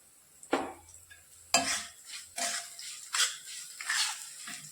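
Roasted semolina and banana stirred in ghee in a pan for sheera, a close series of scraping, scooping strokes against the metal in an uneven rhythm, with no talking.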